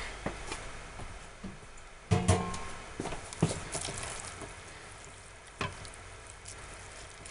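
Body scrub ingredients being stirred together with kombucha in a bowl, giving soft wet squelching and scraping sounds with a few louder knocks of the utensil, close and moderately quiet, with no talking.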